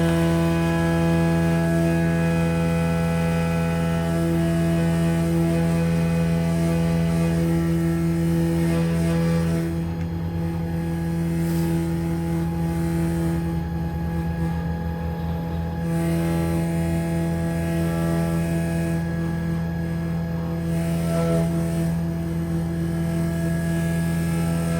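A Laguna Swift CNC router powering up and homing its axes, a steady loud electrical hum with tonal motor whine that shifts slightly as the gantry moves, continuous and close with no speech.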